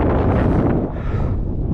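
Steady, heavy wind buffeting the microphone on a Lake District fell summit near Grasmere, a loud low rumble that dips briefly midway and then returns.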